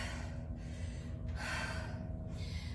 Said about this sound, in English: Just giving my breathing a minute or two to normalize.